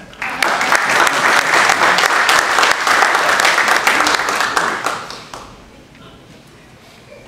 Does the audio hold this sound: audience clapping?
yes